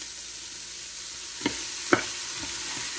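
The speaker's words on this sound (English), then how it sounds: "I'm just gonna add probably a tablespoon or so of avocado oil and get my veggies" Vegetables sauteing in a tablespoon of avocado oil in an Instant Pot on saute mode, heard as a low steady sizzle with a few sharp stirring clacks, no talk.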